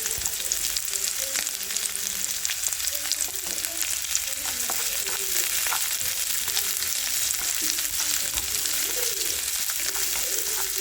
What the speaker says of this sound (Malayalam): ചെറുതായി ഫ്രൈ ചെയ്തെടുക്കാം